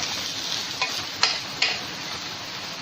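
Spicy potato katli bhaji being stirred in a pan, with a steady frying sizzle underneath and three or four soft scraping clicks of the spoon against the metal.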